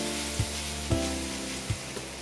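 Potatoes frying in hot clarified butter in a cast iron pan give a steady, close sizzle with a few soft thumps or stirs, and no voices.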